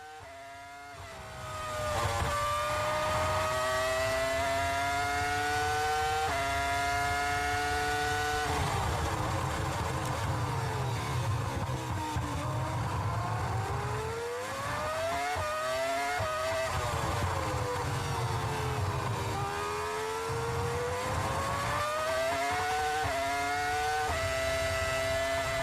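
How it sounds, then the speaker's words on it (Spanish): Ferrari Formula 1 car driven by Barrichello at the 2004 Spanish Grand Prix, a loud continuous engine scream rising and falling in pitch as it brakes and shifts through gears, with repeated downshift steps and no voices. "se puede apreciar con ese volumen a tope la sensación de frenar un Fórmula 1, los cambios de marcha"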